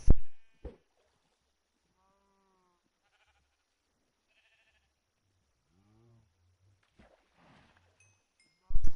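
A few Minecraft sheep bleat one after another, clear and close, with short loud bursts of game sound at the very start and end.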